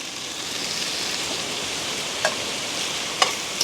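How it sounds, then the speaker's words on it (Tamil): A tomato mixture for a fish curry sizzles and fries steadily in a pan while it is stirred, with a soft continuous crackle and a couple of light clinks from the spoon, no voices. "மீனுக்கு போட்டபடியாக இப்போ வடிவாக பிரட்டி விடுவோம்"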